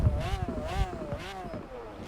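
A car engine in the racing game Forza Horizon 4 hums and revs, its pitch rising and falling in smooth waves at a steady, moderate loudness.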